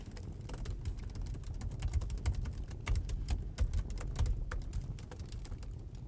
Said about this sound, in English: Why do you care what I'm typing now?